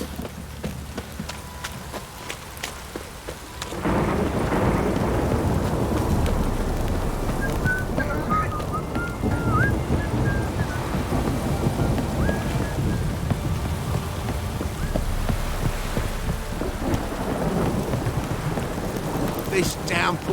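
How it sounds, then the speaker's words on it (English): Heavy rain pours steadily with deep rolling thunder rumbling underneath in The Witcher 3: Wild Hunt, loud and close; the downpour starts abruptly after a few quieter seconds and continues. "This downpour's a bastard"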